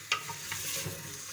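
Fresh new potatoes go into a one-pot thermal cooker pot and are stirred to coat, giving a brief scrape and clatter followed by soft shuffling and faint sizzling, close and quiet.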